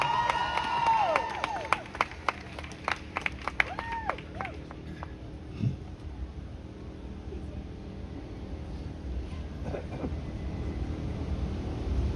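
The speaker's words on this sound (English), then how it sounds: "Hand of applause for Rabbi Sarna." Crowd applause and cheering at an outdoor NYU rally in Washington Square Park, a loud burst of clapping with a few sharp claps at the start that fades into murmuring crowd noise.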